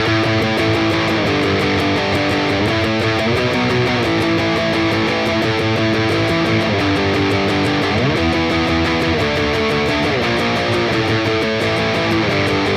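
Loud, distorted electric guitar plays a song's interlude on the two lowest strings, a steady driving riff with no break.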